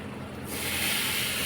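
A sudden loud hiss erupts and holds steady as cumin seeds hit hot ghee and sizzle briskly.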